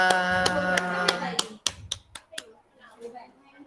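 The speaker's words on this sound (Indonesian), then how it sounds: "Oke, tepuk tangan buat anak-anak semua." Schoolchildren in a classroom receive a short burst of hand claps, a few distinct claps rising over a sustained tone, then scattered sharp claps fading into quiet room sounds.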